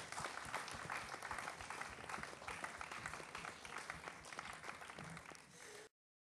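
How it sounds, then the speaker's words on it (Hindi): Loud, sustained audience applause fills a singing competition stage show, dense clapping running steadily for about six seconds before cutting off abruptly. "जोरदार ताली से इनके विदाई के स्वागत करेगी।"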